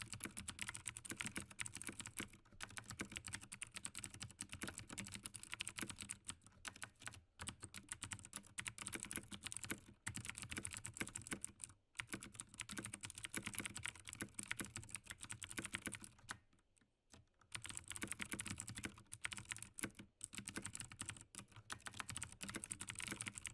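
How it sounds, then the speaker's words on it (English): Fast typing on a computer keyboard for ASMR, a close, dense clatter of keystrokes running for over twenty seconds and broken by a few short pauses, including one longer gap near the middle. "show me how fast you can type on the keyboard"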